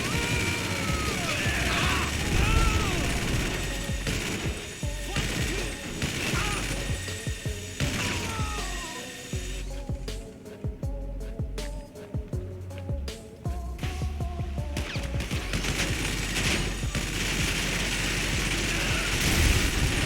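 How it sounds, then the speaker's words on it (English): A minigun fires in GTA Online as a dense, rapid mechanical rattle. It sustains loudly for long stretches with brief dips, layered over other game sounds. "Here I just said screw it and pulled out the minigun"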